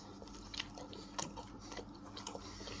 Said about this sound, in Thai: ลองกัดลองกัดตรงนี้ดูไหมที่เป็นแบบ เนี้ย ขนมปังก็เหมือนจะนุ่มแต่ก็ไม่ได้นุ่มมาก